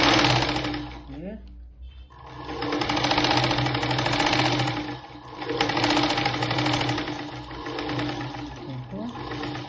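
Sewing machine stitching the top seam onto a blouse lining runs in steady bursts, pausing briefly near the start and midway, close and loud with a voice talking over it.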